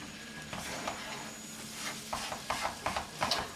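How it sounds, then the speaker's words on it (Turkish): Semolina being stirred and roasted in a pan until golden for irmik helvası, with a steady soft sizzle and intermittent scraping strokes of the spoon, close and moderately quiet, with no talking. "Ve altın sarısı olma kadar kavuracağım arkadaşlar."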